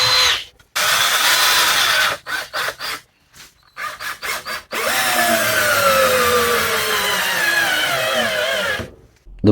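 A Milwaukee cordless drill, hot from use, drives screws in bursts: several short trigger pulls with gaps, then a long steady whirring run with falling pitch as the screw seats, loud and close.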